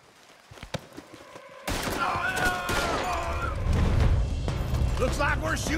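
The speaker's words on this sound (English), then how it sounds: "Looks like we're shooting our way out of here, fellas." Gunfire in Red Dead Redemption 2 breaks out after a quiet start, with dense overlapping shots, rapid bursts and booms layered with voices and horse sounds in a chaotic firefight.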